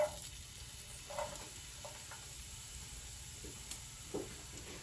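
Ginger and garlic frying in hot coconut oil in a pan, a soft steady sizzle with occasional faint clicks of stirring, quiet and close, no voices.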